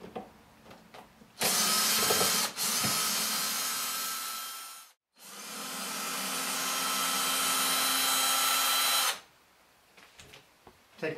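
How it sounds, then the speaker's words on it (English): An electric drill with torque control, run at slow speed, backs four screws out of the rear panel of a vacuum tube amplifier: two long, steady whirring bursts close by, separated by a brief pause, with quiet handling noises before and after. "I personally like to use an electric drill that's got torque control on it"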